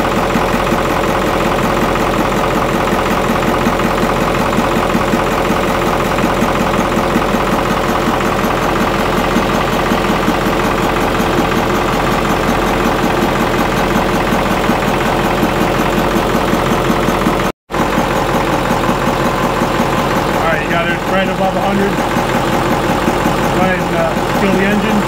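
A Caterpillar 3208 marine diesel engine runs steadily at a loud, close idle with a constant low rumble and knock, broken once by a momentary dropout, while people talk over it.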